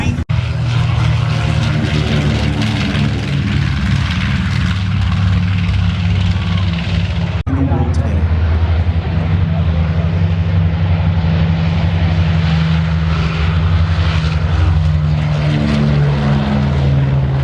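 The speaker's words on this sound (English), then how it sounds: "Here's the B-29." A Boeing B-29 bomber runs its radial propeller engines at an air force base air show, a loud, steady roar with a throbbing low drone that shifts in tone partway through.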